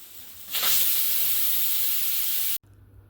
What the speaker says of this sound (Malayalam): ഹൈ ഫ്ലെയിമിൽ ഒരു ഫിസിലും ലോ ഫ്ലെയിമിൽ നാല് ഫിസിലും അടിക്കട്ടെ